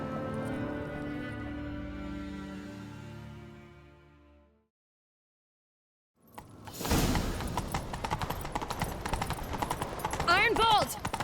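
Hooves clattering during a horseback chase in The Witcher 3, with a faint opening passage, a brief silence, then loud rapid galloping beats and mixed game noise over the last five seconds.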